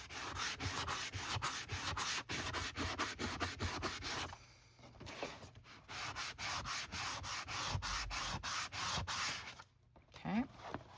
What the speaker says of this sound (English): Now what we can do is scuff all this.